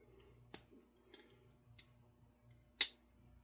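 A yellow smooth bone mini trapper pocket knife clicks as it is opened and closed, giving a few sharp, isolated snaps with the last one loudest, heard close up in a quiet room.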